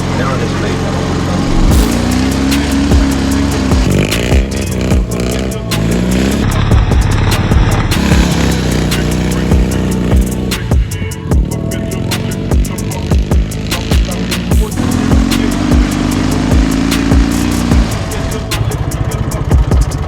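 Dnepr MT11 motorcycle with a sidecar, loaded with cargo, rides and drifts on a forest track, its engine droning loudly and steadily throughout with rising and falling revs.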